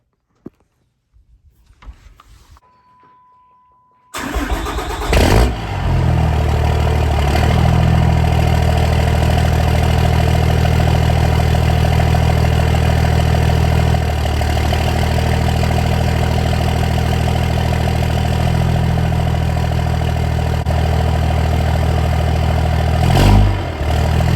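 A 6.7 Cummins diesel truck engine idles with a steady, low, rumbling exhaust drone that starts abruptly after a few seconds of near silence and continues loud and unbroken.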